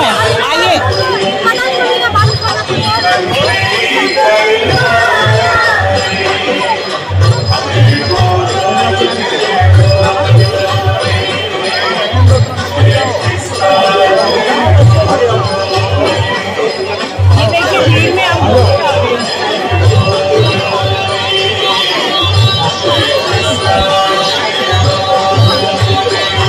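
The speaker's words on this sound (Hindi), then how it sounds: "चलिए देखते हैं यहाँ पे इतनी भीड़ क्यों है।" Dense crowd chatter fills a Christmas celebration at Cathedral Church in Hazratganj, Lucknow, a steady loud babble of many voices close around with footsteps and movement mixed in.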